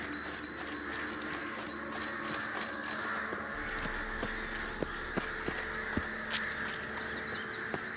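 Crows in the game Witcher 3 give a few scattered caws over a quiet ambient bed, with faint ticks and soft distant sounds around them.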